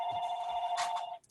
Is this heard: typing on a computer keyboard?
no